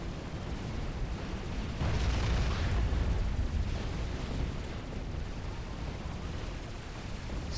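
Cerberus turrets firing in Supreme Commander, a dense rumbling barrage of booms and explosions that swells around two seconds and rolls on as a continuous roar, with no voices.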